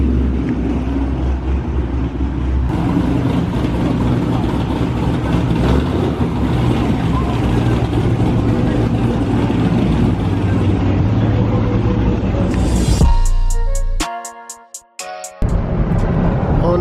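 Camaro ZL1 V8 idling with a lumpy, chopping rumble at a car meet, loud and steady for most of the stretch, with other engine noise around it before it cuts off near the end.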